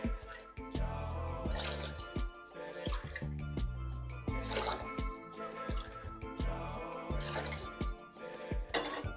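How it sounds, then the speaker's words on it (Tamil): Water is poured into rice in a pot for sambar rice, six tumblers in all, making splashing, dripping and filling sounds in irregular bursts. The sounds are close and moderately quiet. "ஆறு டம்ளர் தண்ணி சேர்த்துக்கலாம்"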